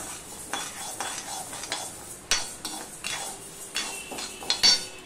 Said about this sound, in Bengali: গরম কড়াইতে আমি আর একটু নেড়ে নেব